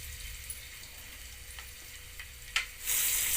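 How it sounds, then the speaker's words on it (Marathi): Ginger-garlic paste frying in ghee in a kadai: a soft, steady sizzle with a few light stirring taps, one sharper knock, then a sudden louder hiss near the end. "आपण पहिला भाजी हे करून घेऊ, फ्राय करून घेऊ।"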